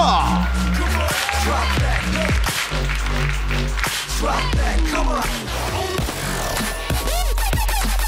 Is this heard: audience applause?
yes